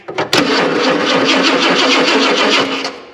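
A 1990 Ford F250 pickup that sat in a barn cranks briefly, then catches and runs with a loud, steady engine roar that fades slightly at the end.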